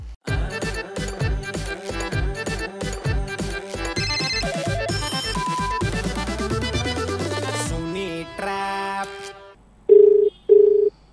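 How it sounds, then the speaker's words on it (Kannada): A phone call goes out on a radio prank-call show: a bright electronic ringtone melody plays for several seconds, followed by dialing beeps and two steady ringback tones. "ಕಾಲ್ ಮಾಡುವ ಪದ್ಮ ಅವ್ರಿಗೆ."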